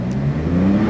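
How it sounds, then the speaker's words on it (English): A Porsche 911 (992) Turbo S engine revs briefly up close, a loud, smooth mechanical drone whose pitch rises slightly over under a second. "it's a 911 Turbo S, and I'll tell you something, she's a belter. And it sounds incredible."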